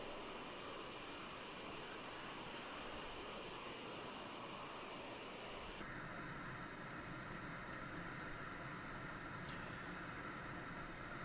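Steady, loud roar of a T-45 jet trainer's engine in flight over Hawaii in a video game, a continuous broadband whine with a sudden shift to a lower, duller tone about halfway through; no talking.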